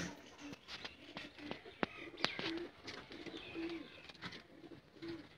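Sialkoti Sheikha pigeons coo in soft repeated calls at a bird show, the low coos returning every second or so over a faint background with scattered clicks and rustling.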